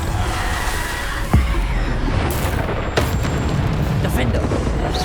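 Descendo spell impacts in Hogwarts Legacy land as heavy booming thuds amid continuous battle noise, with two distinct hits standing out over a dense rumbling background.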